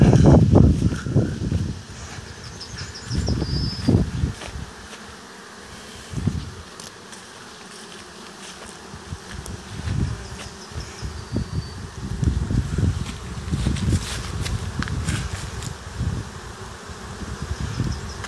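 Honey bees buzz around a swarm trap outdoors, a dense, continuous drone with individual bees passing close by, mixed with light rustling.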